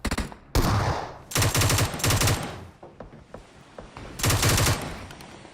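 Rapid automatic gunfire from PUBG Mobile, loud bursts that start, stop and resume, with quieter scattered shots between the main volleys.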